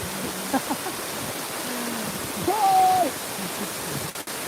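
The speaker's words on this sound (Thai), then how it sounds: "ธรรมชาติน้ำตกนี่งามหรือบอเนาะ" Steady rushing roar of a countryside waterfall, a constant even hiss of falling water filling the background while someone speaks and hums over it nearby.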